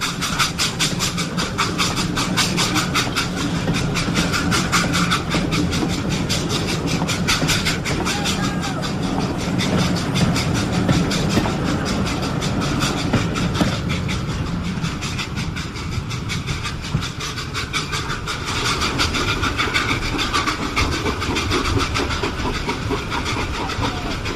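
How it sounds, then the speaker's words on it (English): Two steam engines, Percy and Henry, double-heading a mail train slowly through Wellsworth toward a steep hill: a steady, continuous rumble of wheels and chuffing with hiss, loud and sustained throughout, with no talk. "Percy and Henry taking a mail train slowly through Wellsworth, about to tackle Gordon's Hill"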